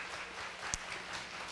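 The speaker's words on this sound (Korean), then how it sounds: "이제 박수로 우리 한번 환영하도록 하겠습니다." An audience in a church hall at a Passover conference applauds to welcome a guest speaker: a brief, soft wash of diffuse clapping with one sharper clap near the middle.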